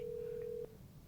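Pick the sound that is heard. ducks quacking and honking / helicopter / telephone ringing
telephone ringing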